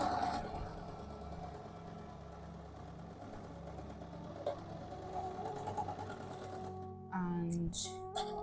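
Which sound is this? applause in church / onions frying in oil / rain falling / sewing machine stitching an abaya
sewing machine stitching an abaya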